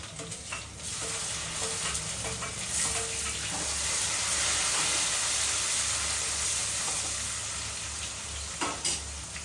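Green chillies sizzle and fry steadily in a hot pan, a close, continuous crackling hiss with a few faint scrapes of stirring and no voices.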